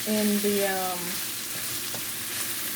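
Steady hiss and sizzle of a rice mixture stir-frying in oil in a pan, continuous and fairly close, with a brief tonal whine at the start.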